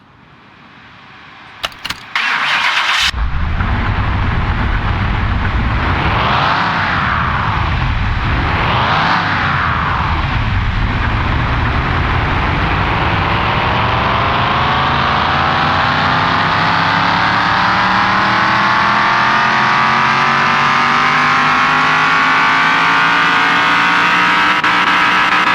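A video game car engine, the Hoonicorn V2 in Car Mechanic Simulator, cranks over after a few clicks, revs sharply twice, then settles into a loud, steady roar that slowly climbs in pitch, heard alone.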